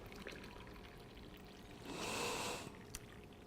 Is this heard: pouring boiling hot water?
yes